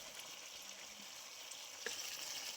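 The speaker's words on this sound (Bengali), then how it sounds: "আরো বেশ কিছুক্ষণ মশলার মধ্যে কষিয়ে নেব" Tomato, whole dried chillies, mustard paste and spices frying in a pan for a fish dish, giving a steady close hiss of sizzling oil with small crackles and one brief clink near the end.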